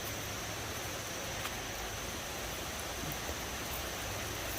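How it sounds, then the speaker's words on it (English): Steady broadband rush of a mountain stream flowing in the Great Smoky Mountains along the Sugarland Valley trail, continuous and even with no breaks, heard alone without voices. "just sit there and relax and listen to the water"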